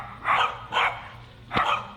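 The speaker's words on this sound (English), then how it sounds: "Good thing we got these dogs going." Dogs bark three times in short, sharp bursts spaced about half a second to a second apart. The barks are moderately distant over a quiet background.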